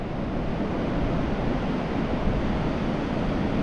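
Surf breaks on Rossall Beach at Cleveleys on a winter evening. The roar is dense and continuous, with steady wind buffeting mixed in and no voices.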